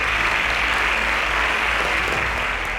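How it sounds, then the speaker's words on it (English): A studio audience at a televised students' competition semi-final claps in loud, sustained, even applause that fills the whole moment without a break. "I think they deserve a round of applause."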